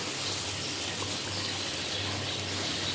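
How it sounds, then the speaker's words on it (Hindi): Water pours steadily into a pan of kofta curry to make gravy, a constant close splashing hiss with a faint low hum beneath. "इसमें थोड़ा सा ग्रेवी बनाने के लिए पानी डालेंगे"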